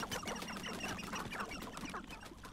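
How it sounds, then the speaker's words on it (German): Chickens cluck in quick, irregular bursts in the Hogwarts Legacy video game near Upper Hogsfield, faint and low in level over a busy background without talk. "Ach, die armen Hühner, ne?"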